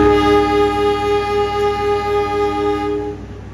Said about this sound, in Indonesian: Kereta Pandalungannya berangkat duluan ya